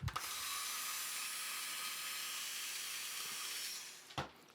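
Screwdriver backing screws out of a 2022 Nerf Elite 2.0 blaster, a steady close hissing, scraping whir lasting about four seconds that fades, followed by a short clack.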